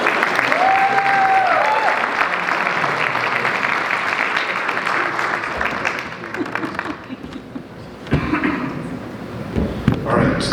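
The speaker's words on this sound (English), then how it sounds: "big round of applause" Sustained applause from a conference audience at a performance showcase, dense and steady for most of the stretch, thinning briefly before a final burst of clapping near the end.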